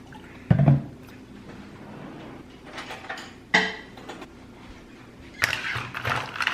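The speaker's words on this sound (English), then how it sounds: "A little stir." Sparkling water and cranberry pomegranate juice stirred in a glass, with a few clinks of a utensil against the glass and soft fizzing between them, close up and fairly quiet.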